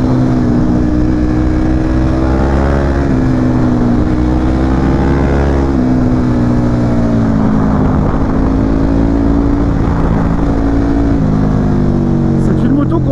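A KTM RC8 sport motorcycle engine hums at low revs while riding, a steady droning tone that rises and falls slightly in pitch, loud and close, with wind noise and someone talking over it.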